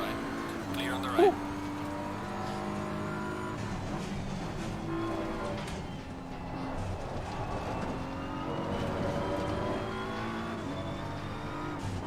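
Race car in Assetto Corsa Competizione at Imola, engine droning and revving steadily from the cockpit with layered engine tones of nearby cars, a brief sharp knock early on, continuous and moderately loud.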